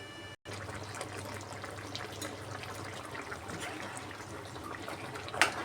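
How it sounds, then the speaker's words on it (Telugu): Tamarind juice poured into a simmering potato curry, a soft steady trickle of liquid running almost unbroken under low kitchen hum, ending with a brief brighter splash. "చింతపండు రసం వేసుకుందామండి"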